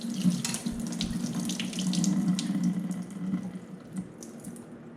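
Liquid from cooked meat for shepherd's pie pours steadily from a pan into a kitchen sink, a continuous close splashing trickle like a running faucet with no talking.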